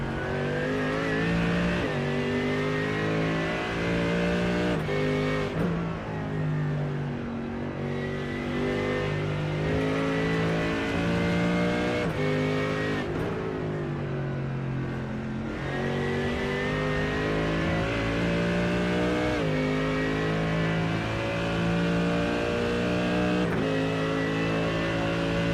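Race car engines roar at Monza in a PFR Sports Car Championship race, heard from onboard with a Ferrari close behind, loud and sustained, with the pitch rising through each gear and dropping sharply on the shifts.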